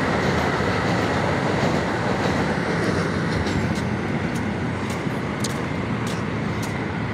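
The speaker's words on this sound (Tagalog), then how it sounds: "Lakas pala tumakbo yung MRT eh." A fast-running MRT metro train at Quezon Avenue station in Quezon City, a loud continuous rumble and roar close by with faint metallic clicks, steady throughout.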